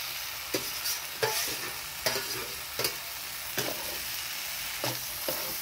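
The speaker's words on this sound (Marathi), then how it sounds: "भेंडी चांगली मिक्स करून घ्यायची." Okra stirred and fried with pav bhaji masala and spices in a pan, with a steady close sizzle and regular clattering spatula strokes about every second, no voices.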